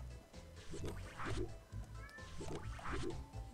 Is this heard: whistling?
no